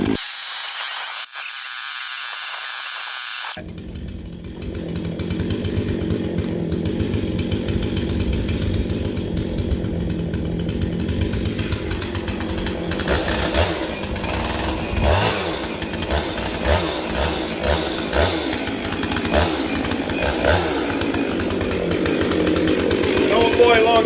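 A chainsaw runs near and loud after a quieter opening, holding a continuous buzzing whine with small rises and dips in revs, while someone talks over it.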